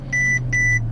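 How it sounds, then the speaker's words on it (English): Mercedes SL55 AMG warning chime dinging twice in steady repeated tones over a low idling engine hum inside the car. "this is gonna ding the entire time"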